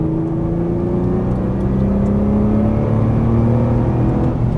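A Nissan GT-R engine pulls hard on a racetrack, its steady, loud drone climbing slightly in pitch as the car accelerates out of a corner, with no voices over it.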